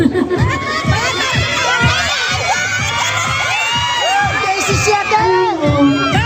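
Festival crowd at Panagbenga Festival shouting, screaming and cheering loudly and continuously, with rhythmic thumps from a beat underneath.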